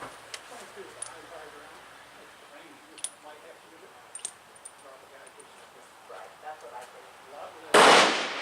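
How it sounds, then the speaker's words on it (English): A single loud, sharp .38 Special revolver shot, 200-grain load, from a Smith & Wesson 686 Combat Magnum at a shooting range. It bursts out near the end after several seconds of quiet background with small faint clicks. "All shooting would be done out of the 686 Combat Magnum."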